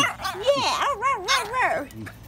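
A French bulldog puppy yips and whines in a rising, wavering run of squeaky vocal sounds, close up and fairly loud, among several puppies playing.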